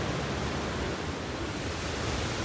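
A waterfall near the Rudreshwar temple at Harvalem, Sanquelim, Goa, during the monsoon: a loud, steady, broadband rush of falling water that fills the whole scene without a break.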